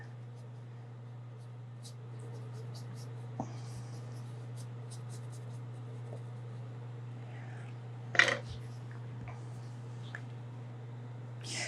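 Art supplies scratch softly across paper while a collage is colored in, with faint, irregular strokes over a steady low hum and one brief louder rustle near the middle.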